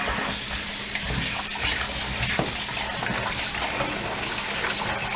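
Tap water runs steadily into a sink while raw chicken is rinsed after a lemon wash, a loud constant splashing gush with small irregular splatters, close and alone without talk.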